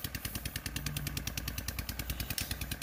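A single engine pulling two plows at once through a rice paddy chugs in a fast, steady, rhythmic clatter, loud and close throughout.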